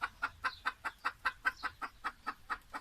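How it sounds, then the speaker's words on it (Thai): A bantam chicken clucks in a quick, steady series of about a dozen short, evenly spaced calls, close and fairly quiet. "ไก่กะลาครับผม"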